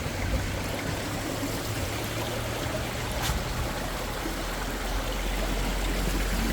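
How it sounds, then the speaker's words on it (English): A small babbling brook near Upper Peninsula waterfalls flows steadily, its continuous close rushing and trickling water unbroken and alone, with no voices. "Nice little babbling brook though."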